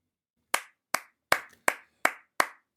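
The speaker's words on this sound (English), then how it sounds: "The clerk in the tank involuntarily applauded." A single person applauds as a sound effect in a Christmas Carol audiobook, giving seven crisp, evenly spaced claps that ring out alone in a quiet room, each with a short decay.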